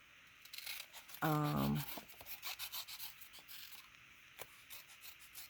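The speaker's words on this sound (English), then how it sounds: "I just want to quickly fussy cut her out." Scissors fussy cut a printed paper card image, a quiet, close series of soft snipping and rubbing sounds with one brief louder tonal scrape near the start.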